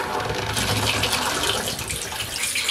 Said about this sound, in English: So far so good. Water's filling in